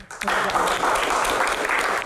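Applause erupts from the audience at an Indonesian panel Q&A, a dense wash of clapping that rises quickly and holds steady for a couple of seconds.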